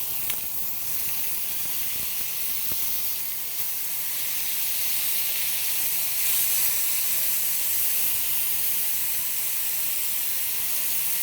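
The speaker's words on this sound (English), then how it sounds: "let's go ahead and take a look at the pork chops and flip them over" Pork chops sizzle steadily in a pan, a continuous bright hiss at moderate level that holds evenly throughout with no voices over it.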